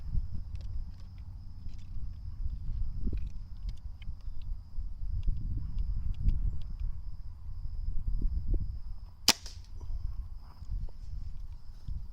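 A single sharp crack from an Air Arms Pro Sport air rifle with a walnut stock, fired while testing pellets outdoors, stands out against constant insect chirping and faint rustling movement.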